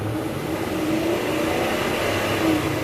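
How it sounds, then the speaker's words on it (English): A truck engine idles as it warms up, a steady, close, low rumbling hum that stays even with slight swells and no talking. "let me warm up my truck a little bit more"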